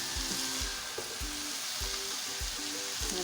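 Rice tossed with vegetables and chicken in a hot pan for restaurant-style fried rice: a continuous sizzle with repeated, evenly spaced scraping and knocking strokes of a spatula.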